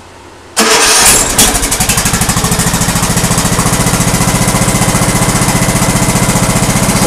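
Lawn tractor engine cranks and catches, then settles into a steady, loud idle with an even rapid chug that runs unbroken to the end, no talking over it.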